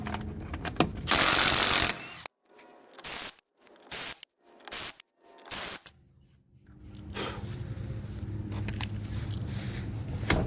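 A ratchet wrench clicks on a 21mm lug nut of a 2010–2015 third-generation Toyota Prius wheel, with bursts of close ratcheting separated by short pauses, then a steadier mechanical hum.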